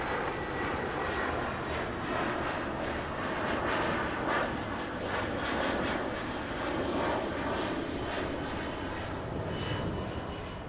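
Boeing 737 landing on runway 25 left at LAX, a continuous engine roar swelling slightly in the middle and staying broad and steady, heard at some distance with no talk.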